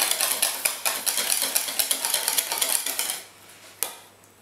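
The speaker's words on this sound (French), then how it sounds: "il faut mélanger énergiquement pour ne pas qu'il y ait de grumeaux" A whisk or spoon beats crêpe batter vigorously in a bowl, making fast, steady scraping clicks for about three seconds before stopping, followed by one last faint clink.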